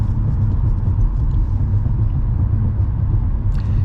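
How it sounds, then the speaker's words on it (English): A car cruising smoothly at moderate speed, its steady low engine and road rumble heard from inside the cabin, even and continuous with no talking. "You can tell by the sound of the car, it's a really nice, smooth drive."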